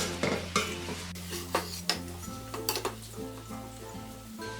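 Onion and carrot for a paneer egg roast sautéed in a pan over a medium flame: a soft sizzle under repeated close clinks and scrapes of a spoon stirring against the pan, with no voices.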